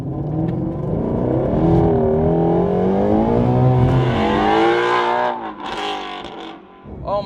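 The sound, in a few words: Shelby GT350R exhaust in loud sport mode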